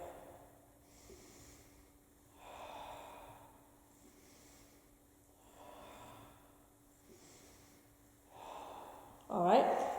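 Exaggerated, audible breaths during a Pilates leg extension, slow repeated inhales and exhales in an even rhythm, followed by a sharper gasp at the end, with no speech over them.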